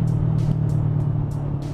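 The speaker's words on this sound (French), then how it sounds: "Je suis trop fan de ma ligne d'échappement" Honda CB500 motorcycle with an aftermarket exhaust system, a steady low engine drone with a deep, pulsing rumble, heard close and continuous for a couple of seconds, with no voices.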